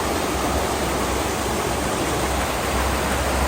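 Steady broadband rushing of a fast-flowing, swollen river heard from a bridge in Dsegh, Armenia, a loud continuous roar of water with no break and no voices.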